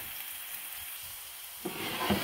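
Ingredients for shrimp fried rice sauté in a pan, giving a quiet continuous hiss that swells into a fuller, louder sizzle in the last moments, heard up close with no talking.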